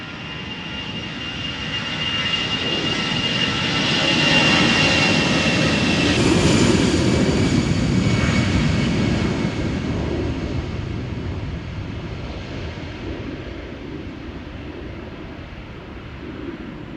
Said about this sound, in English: EasyJet flight 22922 going to Bristol, Airbus A320